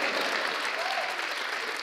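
A studio audience gives dense, continuous applause at a late-night comedy monologue, a loud, even wash of clapping that neither builds nor fades.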